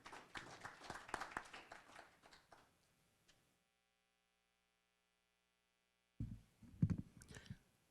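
Audience at a Nigeria Decides 2023 gathering in Detroit, Michigan, giving a round of applause: dense nearby clapping that thins out and fades to silence, then a short burst of claps and knocks returns.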